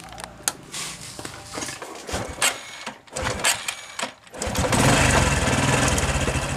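A Honda Supra X 125 PGM-FI motorcycle engine is started and kept running while its battery is disconnected. A busy, clattering mechanical sound comes first, then the engine steadies into a loud, continuous run near the end.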